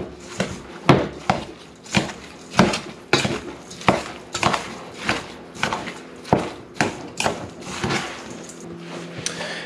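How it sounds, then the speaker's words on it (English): Homemade casserole ingredients being stirred in a dish with a utensil, giving a steady run of clinks and scrapes roughly every half second, close and fairly loud, with no talking. "And then we're just going to mix this all up here."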